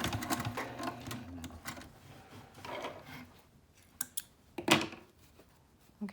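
Sewing machine stitching fabric for a baby sling, uneven quiet rattling bursts with gaps, then a few sharp clicks and a louder clatter near the end, with no talk.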